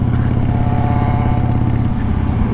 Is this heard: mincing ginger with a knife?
no